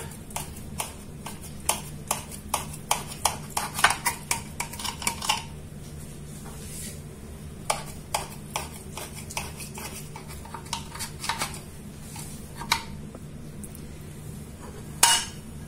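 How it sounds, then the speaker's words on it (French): A knife clinks and scrapes against a baking dish while a slice of spinach lasagne is cut and lifted, giving a string of sharp, close taps and scrapes, with a louder clink near the end. "on va couper une part pour que vous voyez comment elles sont de l'intérieur"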